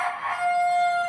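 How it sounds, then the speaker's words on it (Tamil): A rooster crows at the doorstep of a house, a single sustained, fairly clear call that carries steadily over quiet background with no talking. "இப்போ அது பதில் கோழி கூவுற சத்தம் தான் கேட்குது."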